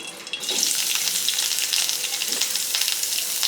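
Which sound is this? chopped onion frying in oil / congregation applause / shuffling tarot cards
chopped onion frying in oil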